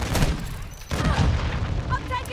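Video game shooter gunfire in a squad match: dense booming bursts and rattling shots, loud and continuous, mixed with game sounds and voices talking over them.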